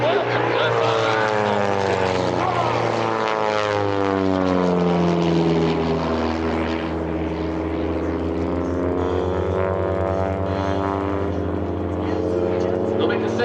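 Propeller-driven aerobatic airplanes of the Redline Airshows team flying an opposition loop at EAA AirVenture, their engines droning steadily and loudly with slowly shifting pitch as they pass, under an announcer's voice.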